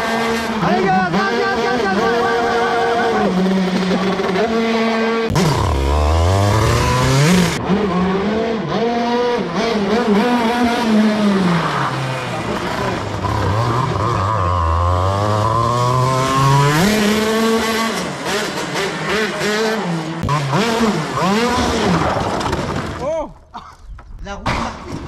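Go-kart engine revving hard at full throttle, a loud continuous rising and falling buzz with pitch sweeping up and down through the run, close and dominant, with voices underneath.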